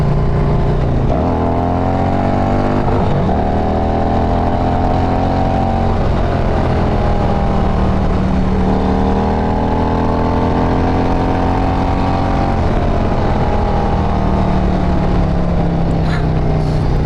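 Warmed-up Harley-Davidson motorcycle with a Stage III 122 kit, ridden hard with a loud, deep engine roar that rises and falls through repeated throttle pulls and gear changes, close and continuous.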